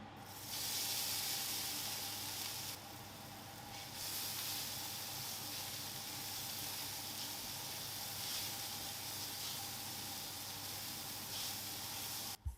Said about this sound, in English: I fry this in a pan until golden brown and lightly crispy.